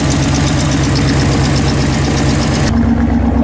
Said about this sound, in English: You can hear a little bit of a tick, but I think it's just the exhaust.